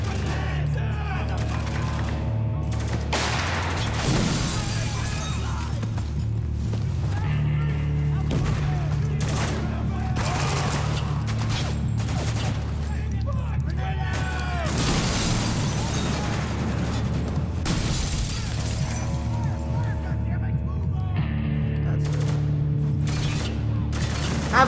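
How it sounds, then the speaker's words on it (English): A grenade blast in the video game Spec Ops: The Line, heard amid repeated gunfire bursts and explosions in a loud, chaotic firefight, with a voice talking over parts of it. "A grenade."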